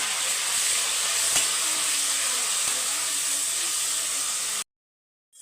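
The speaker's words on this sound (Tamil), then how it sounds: "இந்த பக்கம் சின்ன வெங்காயமும் முருங்கைக்காவும் வதங்கட்டும்" Shallots and drumstick pieces sauté in a pan, making a loud, steady, close sizzle and hiss with a couple of faint stirring taps before it cuts to silence.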